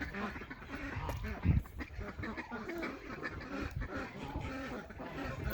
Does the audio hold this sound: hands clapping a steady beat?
no